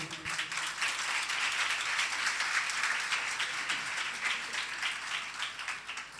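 A church congregation claps steadily and enthusiastically during a Sunday sermon, a dense continuous wash of applause filling a large room.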